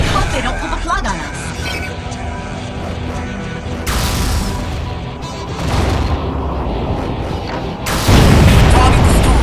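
Explosions destroy a target in the underwater combat game Aquanox, heavy booms and bursts rolling through the scene, loud and close, with voices talking over the battle noise.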